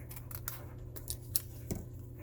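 Scissors snip through material for a garden craft project, several quick, light cuts close by over a low background hum, with no talk.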